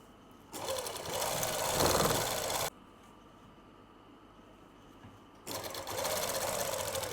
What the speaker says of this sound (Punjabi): ਇੱਥੋਂ ਆਪਾਂ ਆਹ ਸਲਾਈ ਲਗਾਉਣੇ ਆ ਜੀ ਤੇ ਸਲਾਈ ਲਗਾਵਾਂਗੇ